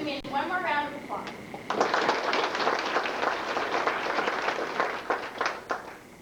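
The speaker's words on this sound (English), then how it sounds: "Join me in one more round of applause." An audience at a 2002 FFA award ceremony claps: a brief voice comes first, then dense, steady applause that carries on to the end.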